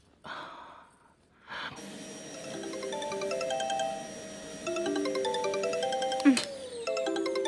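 A phone rings with a steady, electronic melodic tone of repeating notes that starts after a couple of breathy sighs and goes on at moderate loudness, with a brief sharp knock partway through.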